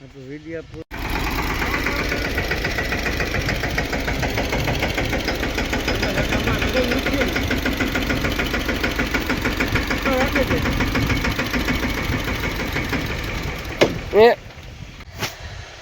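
A tractor's diesel engine runs steadily with a rhythmic knocking chug, close by, then cuts off near the end with a few clunks.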